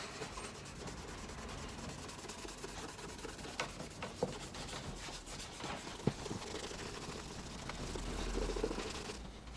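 A cloth rubs wax onto a leather shoe with very light pressure to build a polish. The strokes are faint, soft and rhythmic, with a few small taps, heard up close in a quiet room.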